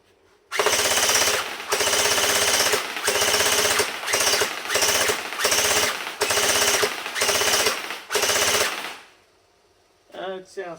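An X-Force Tactical M4A1 GT gel blaster fires at a target about 10 meters away, rattling off repeated loud, rapid bursts of shots in quick succession, separated by brief pauses, before falling quiet near the end.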